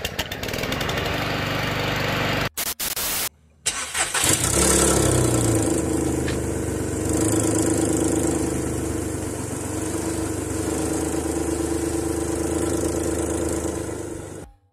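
A Skoda Fabia 1 estate car engine cranks and starts after a brief dropout, then settles into a steady mid-pitched idle and low revving while reversing, close and continuous with no talk.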